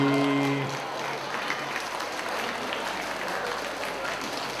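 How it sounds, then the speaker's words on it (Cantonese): A crowd at a school award ceremony applauds the prize-winning students with steady, moderately loud clapping that swells in just as a brief tone fades out, then carries on evenly. "再次俾掌聲得獎嘅同學"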